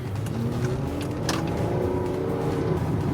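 A Ford Edge engine drones and revs with a rising then flattening pitch as its slipping automatic transmission shifts, heard steadily from inside the moving vehicle amid road noise.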